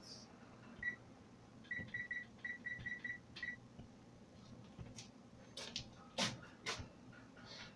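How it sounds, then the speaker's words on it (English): A kitchen timer being set for eight minutes, giving a single short beep and then a quick run of small electronic beeps, faint against room noise, followed by a few clattering knocks. "set a timer for 8 minutes"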